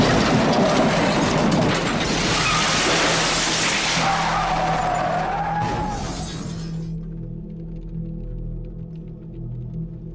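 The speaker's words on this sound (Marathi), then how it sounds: "गाडी रस्त्याच्या बाजूला असलेल्या दगडाला धडकून जोरात हवेत झेपावली." A car crashing into a roadside rock on the Varandha Ghat road at night in the rain, heard as a loud sustained grinding, shattering roar for about seven seconds that ends abruptly in a low rumbling hum.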